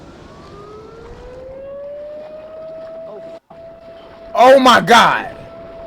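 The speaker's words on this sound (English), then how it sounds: "a loud siren broke the silence" A loud warning siren near a river that may flood rises into a steady, sustained wail. Near the end someone shouts in alarm over it.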